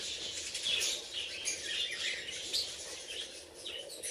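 Budgies in a breeding aviary chirp and twitter in quick, overlapping bursts, faint and slightly distant, with no voices.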